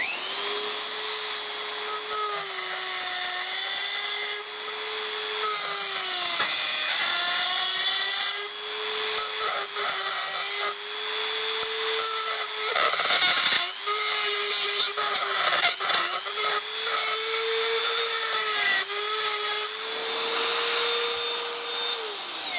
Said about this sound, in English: I've got some nice small carbide burrs. I'll just carefully dress the end of that away